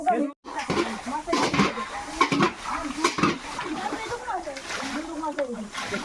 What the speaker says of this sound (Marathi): आता आपल्याला हा ढो उपसायचा आहे